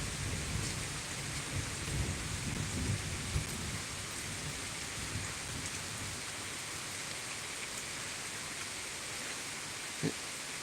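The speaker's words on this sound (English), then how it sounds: "this thunder's making me nervous" Low thunder rumbles roll beneath a constant hiss of heavy rain during a storm at Thurmond, West Virginia, with one sharper crack near the end.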